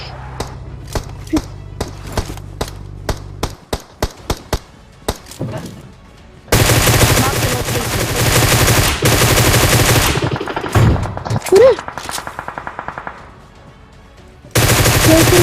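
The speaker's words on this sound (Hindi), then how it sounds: "फिर गोलियों की आवाज आने लगती है" Automatic and single gunfire in a PUBG match, sharp cracks in a rapid rhythm at first, then long dense bursts of fire that fill the middle and end of the stretch, loud and close.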